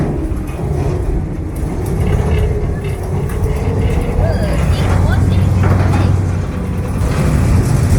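A private boat's engine on a cave tour in Vietnam gives a steady low rumbling drone that carries on unbroken, close and fairly loud, with water and ambient noise around it.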